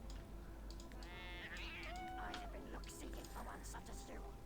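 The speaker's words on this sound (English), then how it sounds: "Agitated cat." An agitated cat in Warhammer Online gives a drawn-out, wavering meow, heard alongside game sounds and a voice talking.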